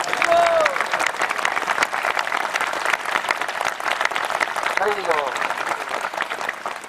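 Steady, dense applause from a large crowd at a religious discourse on Sri Jagannath, loud and continuous throughout, with a few faint voices and cheers mixed in.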